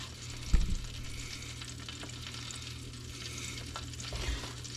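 Steelhead fish, seasoned lightly, fries in a pan with a steady close sizzle and a brief louder crackle or clatter near the start, continuing evenly without talk.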